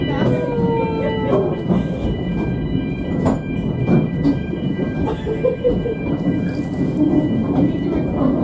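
A Llanberis Lake Railway train in Wales approaches with a steady rumble, rhythmic wheel clatter and squealing rail tones that grow close, and voices nearby.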